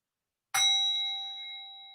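A single meditation bell for a Himalayan breathing meditation is struck once, its clear metallic tone ringing out alone in silence and sustaining as it slowly fades.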